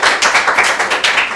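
A crowd of students applauds at a school quiz contest between two lycées, a dense, steady patter of claps with rhythmic swells, close and fairly loud, with no talking.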